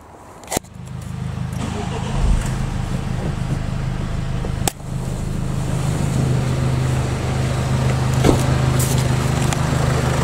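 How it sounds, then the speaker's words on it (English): A Nissan X-Trail and a Renault diesel engine cranking and firing up one after the other inside a garage, each start marked by a sharp burst, then both settling into a steady, rumbling diesel idle close by. "Let's start both cars."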